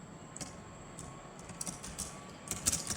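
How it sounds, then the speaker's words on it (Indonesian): Quiet computer keyboard typing while a document title is entered in MS Word, with scattered soft key clicks that cluster more densely toward the end, alone with no voices. "Kita ketikkan judulnya"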